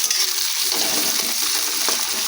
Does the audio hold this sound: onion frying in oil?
yes